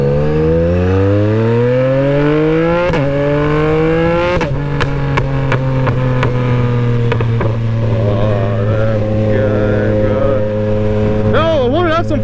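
A Yamaha motorcycle engine roars up close while riding, its pitch climbing through the revs. Abrupt drops mark gear shifts, followed by a steady cruising drone and a final burst of throttle.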